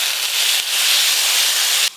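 Water hitting a hot pan of spices with chopped tomato and salt, a steady hissing sizzle that holds for about two seconds and then cuts off abruptly, close and loud.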